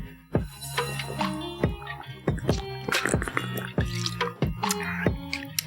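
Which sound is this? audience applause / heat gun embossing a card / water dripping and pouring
water dripping and pouring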